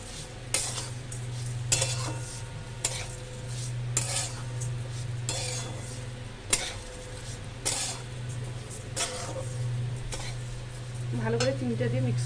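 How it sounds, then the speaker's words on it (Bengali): Sugar, 200 grams of it, stirred in a pan over low heat for coconut naru: a spoon scrapes and clinks against the pan in steady repeated strokes over a constant low hum, with no talking. "চিনিটা নিয়ে ভালো করে মিক্স করে নেব"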